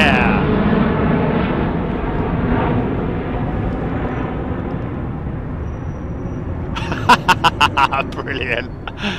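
A jet airliner in old United livery roars loudly on departure from London Heathrow runway 09R, a broad sustained rumble that slowly fades, with people talking and a few sharp knocks near the end.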